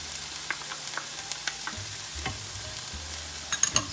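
Cream goes into a pan where garlic and ham are frying, with a soft steady sizzle and a few light stirring scrapes and clinks, close by but fairly quiet and without voices.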